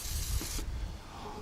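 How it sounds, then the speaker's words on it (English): Penetrating lubricant is sprayed onto rusty exhaust manifold bolts on a Chevy S10 / GMC Sonoma pickup in one short, close, loud aerosol hiss that stops abruptly, leaving faint shop background. "we're gonna spray some bolts right now"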